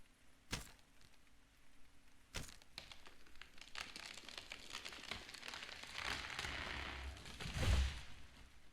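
Wood being chopped in the survival game Steam Hammer: two sharp separate strikes, then a denser run of cracking, crunching hits building toward a heavier thud near the end.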